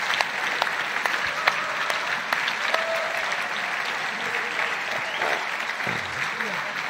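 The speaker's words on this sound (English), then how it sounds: "People couldn't stop themselves from clapping." A room full of conference attendees bursts into sustained applause for standing volunteers, a dense, even wash of clapping that holds steady throughout with a few louder claps standing out.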